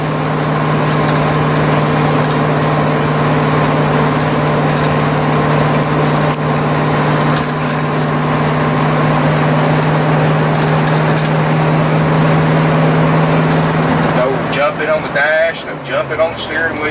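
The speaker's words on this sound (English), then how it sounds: "this is what it's going to sound like driving down the road with the generator on" A 1996 Fleetwood Bounder 35U gas Class A motorhome cruises down the road with its onboard generator and roof air conditioner running. A steady, loud mechanical hum and drone fills the cab, with road rumble underneath.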